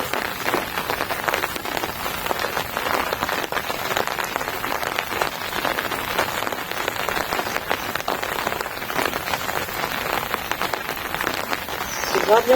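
Steady rain pours down, a dense continuous patter of drops hitting a surface, loud and close with no pauses.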